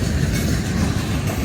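A freight or passenger train rolls past close by on railroad tracks, a loud continuous roar and rumble of wheels on rails that holds steady throughout.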